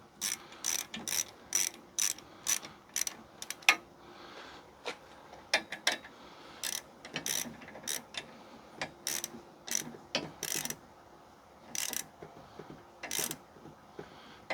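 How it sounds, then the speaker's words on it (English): A ratchet wrench tightens bolts while a Granberg chainsaw mill is set up, quick bursts of close clicking repeated in irregular groups with short pauses between, and no one talking. "kind of want to torque it down pretty good"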